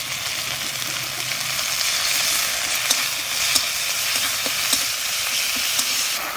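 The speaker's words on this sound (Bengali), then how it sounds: "আদা জিরে একটু ভেজে নিয়েছি" Ginger, green chilli and cumin paste fry in a pan, a loud, steady close sizzle with small crackles and stirring scrapes throughout.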